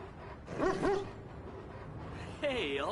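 Dog in the video game Watch Dogs 2 gives a couple of short whimpering yips near the start, then a rising whine toward the end, moderately loud over a low game background.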